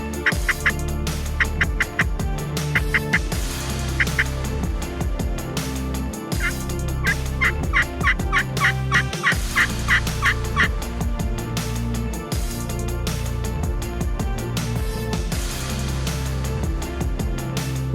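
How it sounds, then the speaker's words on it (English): Wild turkeys gobble repeatedly, rapid rattling calls recurring every few seconds over a steady outdoor background, fairly close and loud. "these birds come in and they gobble"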